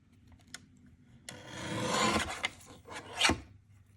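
Paper card stock being trimmed for a handmade card, a few short rasping strokes of cutting close by, with one longer slicing pass in the middle and a final sharp snip near the end.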